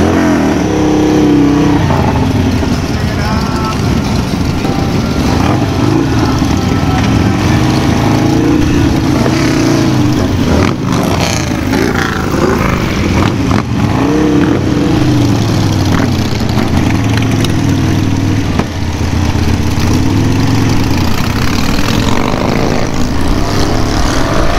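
A recently modified Harley-Davidson Sportster motorcycle engine runs loud and close, idling with a deep throb and rising into repeated revs, with other engines rumbling around it during a group ride.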